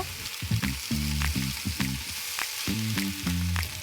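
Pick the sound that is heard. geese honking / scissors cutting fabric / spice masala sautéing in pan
spice masala sautéing in pan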